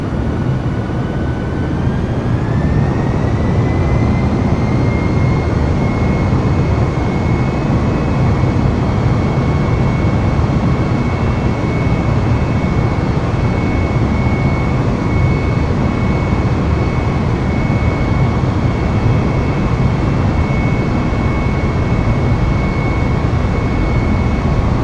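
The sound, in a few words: Airbus A320 jet engines spooling up for takeoff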